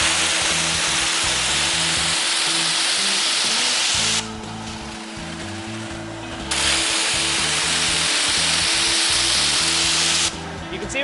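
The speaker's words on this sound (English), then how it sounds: "It'll spray hot solution into the mat and vacuum it back up." A Mytee Lite II carpet extractor sprays hot solution into a mat and vacuums it back up, giving a loud, continuous broadband hiss and motor roar that swells and dips in strength as the wand passes.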